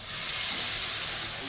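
Water poured into a pan of frying spice paste, with a poppy-seed, yogurt and nut paste mixture, raises a loud, steady steamy hiss that holds evenly from start to finish.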